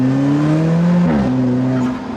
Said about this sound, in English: here's some revs from inside the car